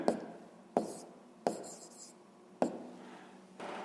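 Pen writing on paper during a sixth-grade math exercise, four or five distinct scratchy strokes each starting with a tap, close and fairly quiet, with no voice over them.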